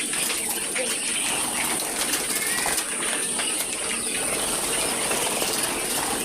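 Quail in a poultry farm house holding about a thousand laying birds make a dense, continuous chorus of soft calls and rustling over a steady background hum.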